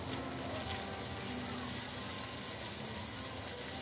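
Ginger and cumin powder fry in hot oil, a faint, even sizzling hiss that holds steady without breaks, low in level and close by.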